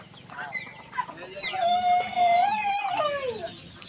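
Chickens on a poultry farm, with close clucking building into a loud drawn-out crow, and other birds faint in the background.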